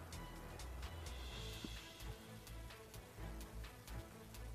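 Rain spell from a shaman in the fantasy RPG Knight Pen and Paper 3, a steady hiss of falling rain with faint scattered drop ticks, continuous and moderately quiet throughout.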